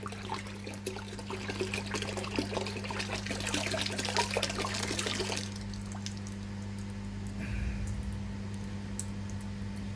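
Star San sanitizer solution pours into a bottle, a close, steady trickling splash for about five seconds that then stops, leaving a low steady hum and a faint gurgle.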